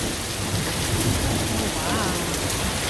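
Heavy rain pours down during a night thunderstorm near Edmonton, a dense, steady, loud hiss of drops drumming on surfaces with low rumbling thunder underneath throughout.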